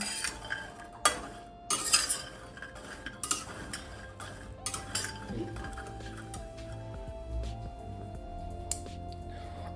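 Dry fruits, including walnuts, are roasted for dates-based dry fruit laddoos, with a spoon stirring and clinking against the pan in sharp bursts over a quiet background and a faint sizzle, with no talking.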